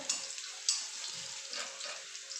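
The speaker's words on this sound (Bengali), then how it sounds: "রসুনটা একটু ভাজা হয়ে যাক" Chopped garlic fries in hot oil over low heat, a soft, steady hiss and crackle with faint bursts of spatter, close by and alone.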